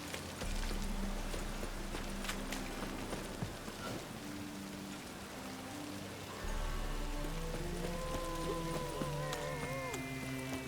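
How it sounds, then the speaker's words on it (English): Rain falls throughout in The Witcher 3: Wild Hunt, a steady wash of noise under game music and a few soft hoof clops, faint overall with no talk over it. "Rain again."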